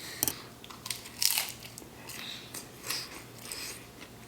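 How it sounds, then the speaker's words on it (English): Crunching bites into crispy homemade chicken flautas, a few sharp close crackles followed by quieter chewing and soft crumbling, with no voices. "They're crunchy."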